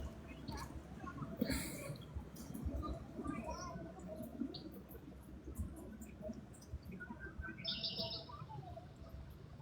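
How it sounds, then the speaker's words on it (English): A blackbird sings at night in the rain, its faint, distant whistled phrases and chirps coming intermittently over a soft background of rainfall. "blackbird singing in the dead of night."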